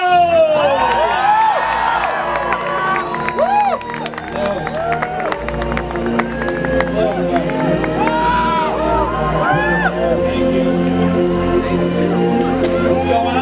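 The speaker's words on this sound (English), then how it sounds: "Ladies and gentlemen, a big round of applause for Colin Trevorrow!" A packed convention audience applauds and cheers loudly and continuously for Jurassic World 3 writer-director Colin Trevorrow at a Jurassic Park 25th anniversary celebrity panel, with shouts and whoops rising over dense clapping throughout.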